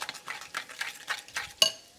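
Chicken being stirred with harissa paste and tandoori masala in a pan, a spoon scraping and clicking in a steady back-and-forth rhythm, close and moderately loud, ending on a sharp metallic tap, without talk.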